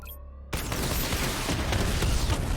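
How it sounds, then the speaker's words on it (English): Missile barrage firing in the video game Batman: Arkham Knight bursts in abruptly after a quiet moment, becoming a dense, loud, sustained roar of rapid explosions that runs to the end without any speech. "Missile barrage level 2 ready."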